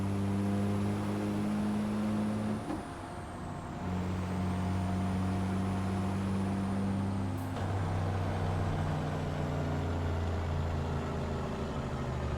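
A truck engine in American Truck Simulator, run with an automatic gearbox and struggling to build speed: a steady low drone and hum holding nearly constant, with a brief shift midway and a faint high whine above.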